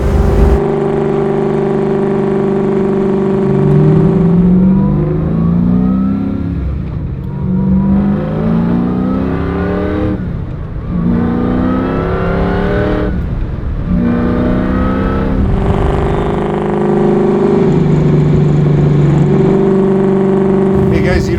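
Supercharged Chevy Camaro pro-touring build accelerating, its loud engine rising and falling through several revving sweeps close by, with someone talking over it.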